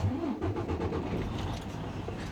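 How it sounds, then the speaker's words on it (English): A truck engine cranks and catches from inside the cab during a CDL pre-trip inspection, then settles into a steady, close, moderately quiet idle. "then I'm going to turn the engine on"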